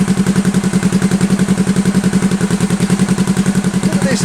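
A hard tail bobber motorcycle engine runs steadily after starting, its close, loud, even rapid pulsing beat holding at idle as it warms up, with no voices over it.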